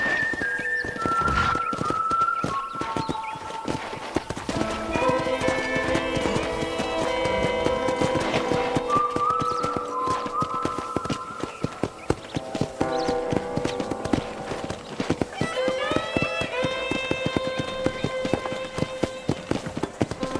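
Horse hooves clip-clop at a steady gait in the Red Dead Redemption game, on a ranch, running under continuous orchestral music with whistle-like melodic lines.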